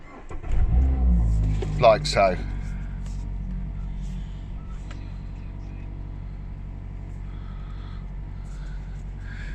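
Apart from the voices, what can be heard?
Mazda MX-5 RF 2.0 Skyactiv-G engine starting and idling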